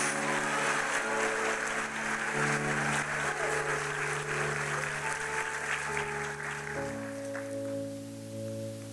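A church congregation claps together in a dense, sustained wash of applause, loud and close, over steady held organ or keyboard chords that shift partway through before the clapping thins.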